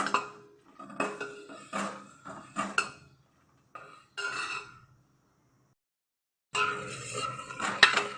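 A utensil scrapes and clinks against a metal pot of boiling milk for ice cream in short bursts, pausing briefly before a final flurry of stirring.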